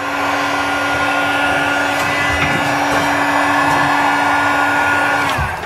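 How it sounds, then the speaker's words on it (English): A heat gun melting foam to carve a stone wall texture blows with a steady, loud motorized whine and airy rush that runs without a break before cutting off at the end. "What your heat gun's going to do is open it up once it gets hot"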